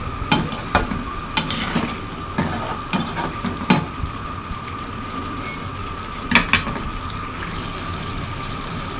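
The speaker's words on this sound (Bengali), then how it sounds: "আমি এখন ডিম দিয়ে দিব, আর একটু কষিয়ে নেব" Eggs frying and being stirred in a pan while cooking, with repeated scraping and clinking of a utensil against the pan over a steady sizzle, close and fairly loud.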